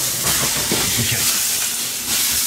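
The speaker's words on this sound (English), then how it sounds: "So now you're just pan searing these, right?" Food pan searing in a hot pan gives a loud, continuous sizzling hiss close by, steady throughout with slight swells.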